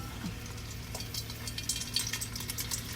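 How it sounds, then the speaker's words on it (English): Fresh jalapenos sizzle softly in avocado oil in a pan, a quiet, steady crackle and pop with a low hum underneath. "Right now in my pan I have jalapenos, fresh jalapenos cooking."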